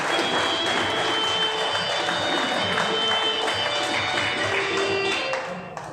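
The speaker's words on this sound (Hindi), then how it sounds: "आप सभी साथियों के लिए एक बार जोरदार ताली हो जाए अपने आप के लिए।" Loud, continuous applause from an audience at an organized business program in a hall, a dense wash of many hands clapping at once, steady throughout and easing off at the close.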